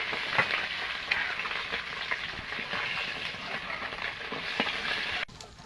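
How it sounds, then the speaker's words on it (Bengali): Fish fries in hot oil in a kadai, giving a steady, close crackling sizzle that runs for about five seconds before it drops away suddenly. "বাকি মাছগুলো ভেজে নেব।"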